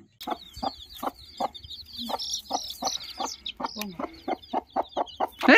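A hen clucks in a quick, regular rhythm close by, while newly hatched chicks peep high and thin between the clucks, ending in a louder burst of clucking.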